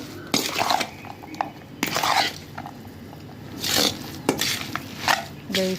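Spoon scraping and stirring in a pan as powdered sugar is mixed into semiya puttu, a series of close, uneven scraping strokes with clinks of metal against the pan.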